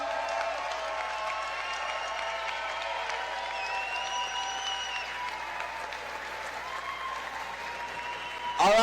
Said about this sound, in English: Huge round of applause for Luigi!